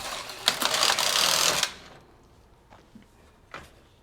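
A knitting machine carriage slides across the needle bed for one row, a loud mechanical whirring rattle lasting over a second, followed by quiet clicks and small clacks.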